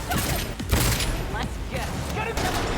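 Sniper gunfire in the video game Cyberpunk, a few sharp shots cracking out over steady game noise and a talking voice.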